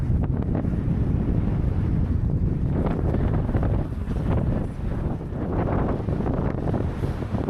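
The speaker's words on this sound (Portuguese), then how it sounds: "Pegamos uma rajada de vento, perrengue do dia, muito forte." Strong gusts of wind batter the microphone on a salt flat during a family bicycle trip, a loud, close, rumbling buffet that surges and eases continuously with no one speaking.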